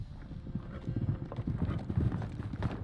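Footsteps outside in The Witcher 3 video game: a steady run of hard, rhythmic clopping steps at moderate loudness, fairly close, with no talk over them.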